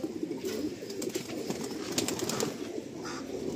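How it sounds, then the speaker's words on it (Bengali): Andhra Lalshila pigeons being released in Kolkata give soft, continuous cooing with faint wing flutters over a steady background hum, at moderate distance. "পিওর অন্ধ্রা লালশিলা পায়রা"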